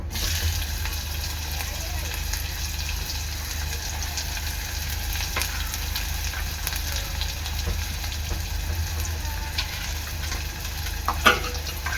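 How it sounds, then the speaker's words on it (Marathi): Onion frying in hot oil with curry leaves and cumin gives a steady, close sizzle that runs unbroken, with a few light stirring clicks and a sharper knock near the end. "कांदा चांगला लाल होईसपर्यंत शिजून घ्यायचा आहे तेलात"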